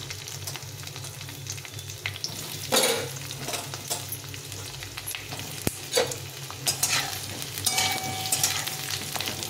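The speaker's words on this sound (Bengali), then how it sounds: "এখন আমি এর মধ্যে ফুলকপিটা ভেজে নেব" Cauliflower florets frying in hot oil in a pan, a steady close sizzle running throughout, broken by several louder stirring and scraping bursts, with no talking.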